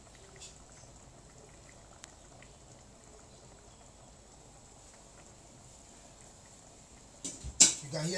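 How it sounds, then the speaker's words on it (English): Stew for Ghanaian jollof rice boiling in a pot on the fire: a soft, steady bubbling hiss, faint and continuous, with a brief louder clatter near the end. "See how it's boiling."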